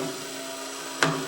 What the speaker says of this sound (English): It's called a pre-drilling. You just drill the hole.